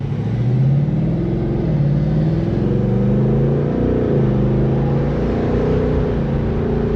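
A stock 2026 Ford Mustang GT V8 revs up close in a parking lot, a deep, throaty engine note that swells and falls through several rising and easing revs, loud and alone with no talk.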